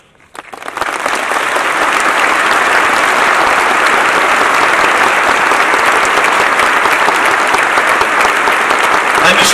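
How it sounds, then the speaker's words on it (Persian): Audience applauding in honor of a firefighter, swelling quickly from quiet into loud, sustained, dense clapping that holds steady to the end. "اجازه نمیدیم ما به افتخار شما دست بزنیم"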